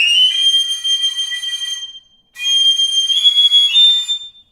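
A Trevor James 5X piccolo plays bright, sustained high notes with a short pause midway, loud and close with no voices.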